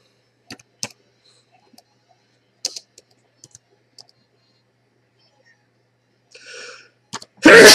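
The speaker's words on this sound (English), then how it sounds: "for the sneeze." A single loud sneeze bursts out at the very end, preceded by scattered soft computer keyboard and mouse clicks in an otherwise quiet room.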